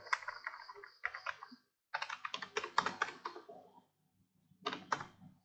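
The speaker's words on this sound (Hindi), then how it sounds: "तो फिर अभी हम लोग यहाँ पे लैंग्वेज टाइप करते हैं" Quick typing on a computer keyboard, close and fairly quiet, in short bursts of clicking keystrokes separated by brief pauses, with no talking.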